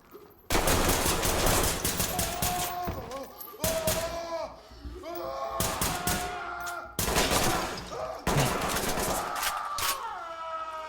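Gunfire from the tactical shooter game Ready or Not comes in several loud, separate bursts of rapid shots, each cutting off abruptly, with short gaps between them.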